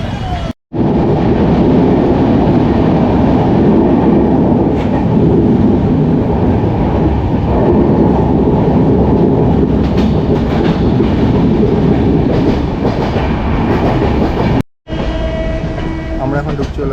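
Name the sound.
local train passing on the Howrah line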